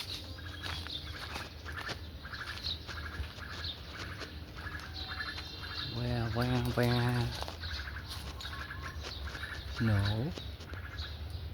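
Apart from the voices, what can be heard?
bird singing in a tree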